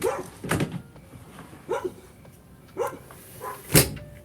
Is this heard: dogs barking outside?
yes